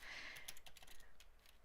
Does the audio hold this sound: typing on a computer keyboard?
yes